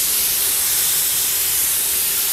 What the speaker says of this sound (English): Can you see the steam coming up there?